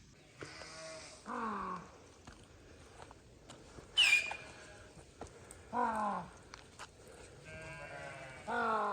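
A flock of sheep and goats turned out to graze in a remote forest bleats repeatedly, with several distinct calls from near and mid distance spread across the scene over a quiet outdoor background.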